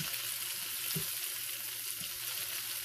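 Onions caramelizing in a pan over low heat, an even hissing sizzle throughout with a couple of soft stirring knocks, close up and with no voices.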